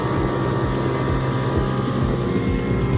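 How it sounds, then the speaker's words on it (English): An old tuk-tuk engine in Sri Lanka strains uphill in wet weather, a loud, steady low drone close by that runs without a break. "it became a struggle for our small tuk-tuks, and yet again the feisty Linda with the old engine had to fight for it"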